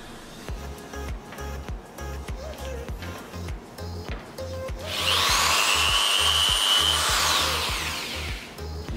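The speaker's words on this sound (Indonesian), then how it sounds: "video review dan unboxing bor listrik Uchiha" An Uchiha 10 mm electric drill, model 6204, whirs at close range, a rough motor drone with rhythmic thumps, then rises to a louder high-pitched whine from about five seconds onward.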